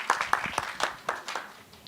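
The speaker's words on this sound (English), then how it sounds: "A round of applause, ladies and gentlemen." Applause at the Inclusive Africa Conference 2024: a short spell of quick, fairly faint clapping with uneven bursts and no talking over it.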